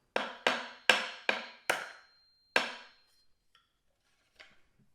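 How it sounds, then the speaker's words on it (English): A small tack hammer taps staples down sharply six times in a quick, uneven rhythm, then falls quiet except for a couple of faint knocks near the end. "I'm going to go through with my little tack hammer, and I'm just going to tap the staples down"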